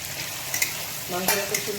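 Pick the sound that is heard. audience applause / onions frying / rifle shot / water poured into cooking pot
onions frying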